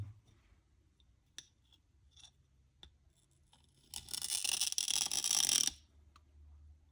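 A harsh, gritty scraping burst of a needle file on glass lasting under two seconds, loud and close, preceded by a few faint clicks and taps.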